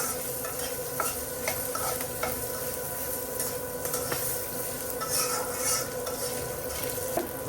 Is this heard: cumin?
yes